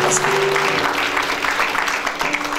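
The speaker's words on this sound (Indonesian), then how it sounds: "Yang suci tepuk tangan buat Tuhan Yesus" A church congregation claps for Jesus during a worship service, a dense, loud wash of applause that holds steady throughout with no talking over it.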